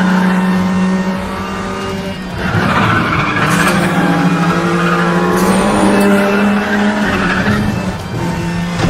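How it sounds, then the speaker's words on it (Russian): Race car engine roaring and tires skidding in the Need for Speed: The Run video game, a loud, sustained engine drone with screeching tire squeal that rises and falls across the whole stretch. "Чувствую рев двигателя."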